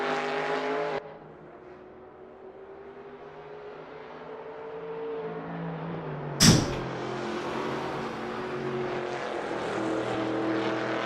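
Falcon race car in Assetto Corsa on a flying lap, a steady droning engine note that shifts in pitch through gear changes, with a sharp clunk midway before the engine climbs again.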